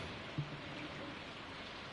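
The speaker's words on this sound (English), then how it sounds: "I hear rain." Steady, faint rain patter in the Stardew Valley farming game, a soft even hiss with one small blip near the start and no voices.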